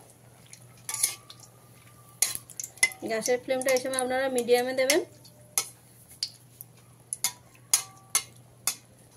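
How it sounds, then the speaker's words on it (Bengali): Three dry red chillies fry in hot oil for a water spinach curry, with brief sizzling, utensil clinks and taps against the pan, and a voice talking partway through. "ফোড়নে দিয়ে দিলাম 3টে শুকনো লঙ্কা। লঙ্কাগুলোকে হালকা ভাজা ভাজা করে নিতে হবে।"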